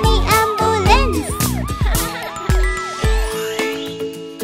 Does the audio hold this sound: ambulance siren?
yes